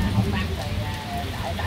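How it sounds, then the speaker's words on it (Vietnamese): Rain falls steadily over a rural Vietnamese area as a dense, continuous hiss of drops on surfaces, loud and close, with no clear voices. "Chỗ nào chỗ nào cũng mưa hết."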